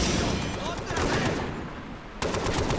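Machine gun fire in the video game Far Cry 3, dense rattling bursts of automatic shooting filling the clip, with a fresh sharp burst near the end and a voice talking underneath.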